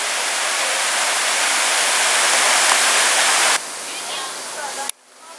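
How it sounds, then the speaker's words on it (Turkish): Suuçtu waterfall in Mustafakemalpaşa pours in a loud, steady broadband rush, then drops to a softer roar before cutting away to quieter ambience near the end. "Mustafa Kemal Paşa'daki suyuşlu şelalesine bir de buradan bakalım."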